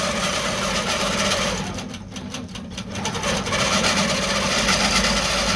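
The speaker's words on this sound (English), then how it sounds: "Cycle my needle, turn my stitching on, and go again." Quilting machine stitching on a quilt: a fast, even mechanical whir of needle strokes, close and continuous, dipping briefly in the middle before resuming at full speed, with no talking.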